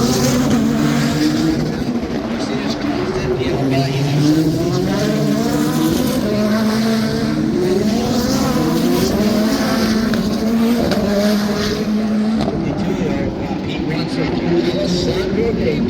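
Race cars at the Grand Prix of Arlington street race in Arlington, Texas roar past continuously with rising and falling engine pitch and brief tire squeals, while a commentator talks over the action.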